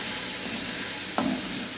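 Rava kesari semolina is stirred in a pan as water is poured in, giving a continuous close hiss of sizzling and bubbling. A brief scrape of the spoon comes near the end.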